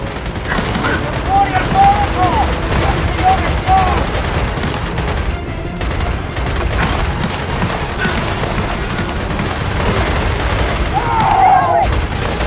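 Heavy gunfire rattles through a Gears of War firefight as soldiers battle Indies at a base with comm towers, with continuous loud bursts of automatic fire and booms while voices shout over the shooting.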